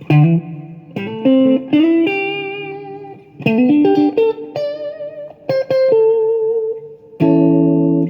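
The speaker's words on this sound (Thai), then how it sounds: "นี่เฉพาะของเอฟเฟกนะเสียงคลีนกับรีเวิร์บ" Guitar played through an effects unit on a clean tone with reverb: a few separate notes and chords ring out clearly and sustain, each trailing off into a reverb tail, with no voices.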